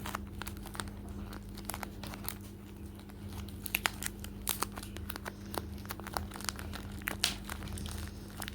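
Plastic bag crinkling and crunching close up as it is handled and taped into a homemade soft squishy toy, with irregular sharp rustles and crackles over a steady low hum, no talking.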